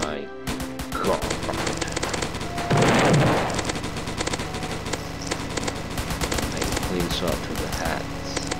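Rapid gunfire in the Roblox Zombie Attack game, a dense stream of sharp repeated shots with a louder burst in the middle, running under excited talking throughout.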